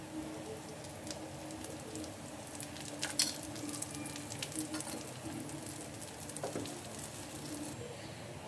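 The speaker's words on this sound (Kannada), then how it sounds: "ಎರಡು ಕಡೆ ಕ್ಲೀನಾಗಿ ಬೇಯಿಸ್ಕೊಳ್ಳಿ ಇದನ್ನು. ಇದ್ರ ಮೇಲೆ ಬೇಕಾದರೆ ಇನ್ನೂ 1 ಸ್ಪೂನು ಎಣ್ಣೆ ಹಾಕ್ಕೋಬೋದು." Plantain slices fry in oil on a tawa over a low flame, giving a soft, steady sizzle and crackle with a few brief louder pops and clinks of a utensil.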